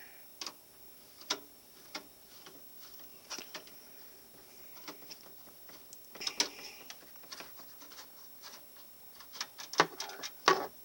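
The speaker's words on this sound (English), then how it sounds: "I got two screws to take out just to flip it around. So I'll do that here." Screws are taken out of a computer fan on a gaming desk, heard as scattered small clicks and ticks of a screwdriver and metal parts, with a cluster of busier rattles toward the end, close and fairly quiet.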